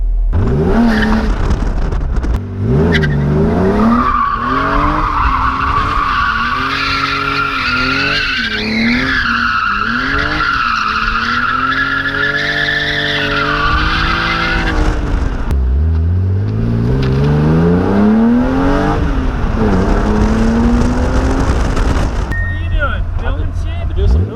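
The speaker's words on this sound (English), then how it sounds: "do a couple slides" BMW E36 M3 sliding with long, loud tire squeal and a revving engine rising and falling through repeated slides, close and continuous, with a voice speaking at times over it.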